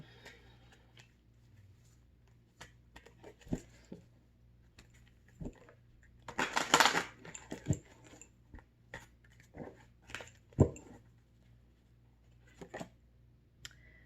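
Soft rustling and flicking of cards, with a brief burst of riffling in the middle, interspersed with light taps and clicks in a quiet room.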